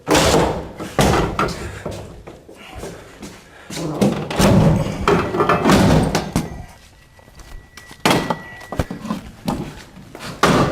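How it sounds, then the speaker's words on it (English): A forcible entry tool pries and forces an inward-swinging door, giving heavy repeated thuds, bangs and creaks through the clip, loud and close, with brief breaks between impacts. "Now I just push and I should be able to force the door open."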